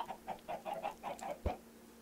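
A Minecraft chicken clucks in a quick string of soft, low bursts with a muffled thump near the end, quiet and close within the game, with no speech.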